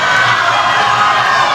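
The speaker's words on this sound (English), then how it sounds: "the crowd is super excited for her" A crowd at a powerlifting meet cheers and shouts loudly and steadily throughout, a dense roar of voices filling the whole stretch with no pause.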